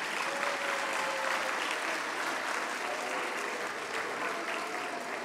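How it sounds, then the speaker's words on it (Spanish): Audience applause at the Rompedoras 2023 stage event, a dense, steady wash of many hands clapping that holds at an even, fairly loud level throughout, with no break or speech. "un aplauso para ellos"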